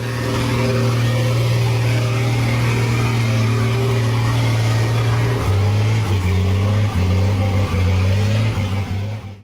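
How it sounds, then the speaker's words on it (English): Off-road vehicle engine running steadily and loud, a low droning hum that holds for several seconds and then shifts pitch as it revs and changes speed, with faint voices in the background. "Off-road vehicle looks like."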